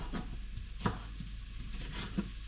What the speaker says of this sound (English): And you're just going to chop these up as well.